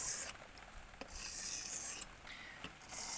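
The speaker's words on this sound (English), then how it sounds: "It's a lot more smoother when you run it across that actual fine grit, and it actually has a different pitch to the sound." A knife blade scraped across a fine-grit sharpening stone in smooth, continuous strokes, with faint clicks where each pass begins or ends. The rasping is quiet and close.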